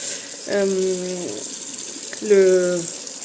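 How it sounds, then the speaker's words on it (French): Water left running from a bathroom tap while hot water rises from a basement boiler, a steady close hiss throughout, with a voice sounding briefly over it twice. "je suis obligée de laisser un peu couler l'eau"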